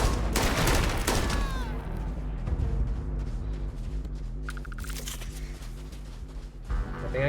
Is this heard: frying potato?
no